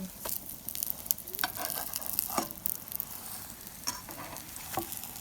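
Layered pantuwa pitha fries in a pan with a steady close sizzle, broken by scattered sharp pops and crackles, with no voices.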